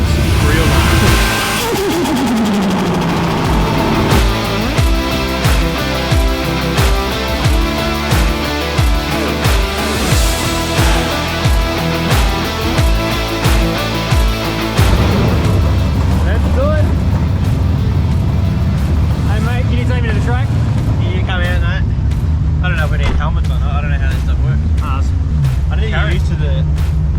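A street car at the Supernats event in Winton revs hard with a loud, rough engine note that rises in repeated pulses and then settles into a steady drone. Voices talk over it.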